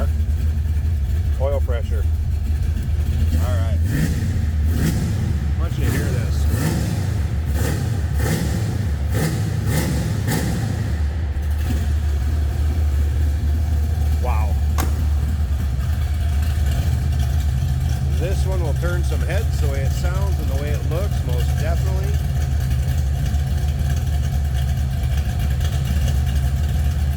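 1970 Chevrolet Nova two-door sedan engine idling with a deep steady burble, broken by several sharp revs early on and a few more later, close and loud, with someone talking over it at times.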